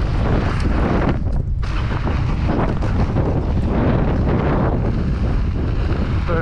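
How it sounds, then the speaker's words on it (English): Wind noise during a solo bike ride on a cool spring day: a constant, loud buffeting roar across the microphone, steady throughout with slight gusty variations. "Nice cool breeze."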